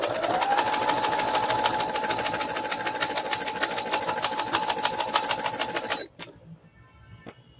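A sewing machine runs a straight stitch along a frock dress hem, a close, steady rapid whirring rattle that holds for about six seconds, then stops abruptly, leaving faint clicks.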